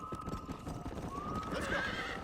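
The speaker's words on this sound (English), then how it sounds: "We got some fine horses." Horses in the video game Red Dead Redemption gallop with quick clip-clopping hooves while a horse whinnies, the sounds fairly faint under game ambience.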